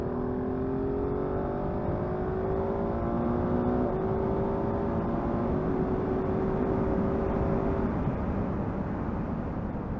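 A 2022 GasGas 700 Enduro motorcycle accelerates steadily through rising gears, its engine note climbing under heavy wind roar for a continuous overtake of two cars, with no talk.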